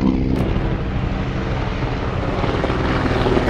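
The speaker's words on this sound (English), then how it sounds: "one Black Hawk and one Huey" Military helicopters, a Black Hawk and a Huey, flying overhead with a loud, continuous rotor and engine roar that stays strong and steady throughout.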